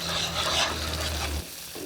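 Chilli sambal with shrimp paste stirred in a hot pan for Balinese chilli sauce, a short close burst of sizzling and scraping that drops off near the end.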